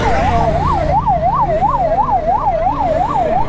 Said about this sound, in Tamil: ஆம்புலன்ஸ் வந்துருச்சுங்க.